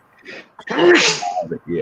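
A single sharp sneeze bursts out loud and close in the middle of a casual panel chat, with people talking just before and after it.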